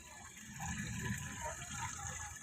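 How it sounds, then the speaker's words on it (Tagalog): A washing machine pumps out rinse water mixed with fabric conditioner, a steady low gushing and trickling of draining water, faint and continuous throughout. "Narinig mo yung drain."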